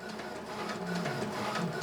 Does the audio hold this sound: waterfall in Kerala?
no